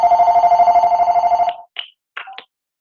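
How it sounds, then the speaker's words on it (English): An office telephone rings loud and close with a rapid repeating bell trill for about a second and a half, then cuts off, followed by a few short chirping tones. "Just have to silence that phone."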